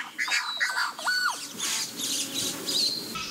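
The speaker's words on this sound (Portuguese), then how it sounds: "ele fica cantando mais cedo do dia." Small birds sing in a shaded agroforest where cacao, cassava and pineapple grow beneath the forest canopy, giving a busy run of bright chirps, short whistles and a rising squeaky call from several birds nearby.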